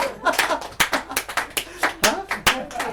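Hand clapping in a group activity session, with sharp, irregular claps spaced roughly every half second over children's and adults' voices talking.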